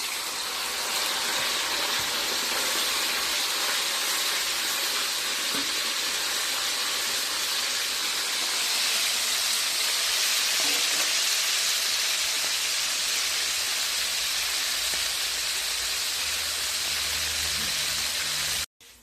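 Pork with garlic and pepper dropped into hot oil, sizzling and hissing in a loud, steady wash of frying noise that holds for the whole stretch and then cuts off abruptly.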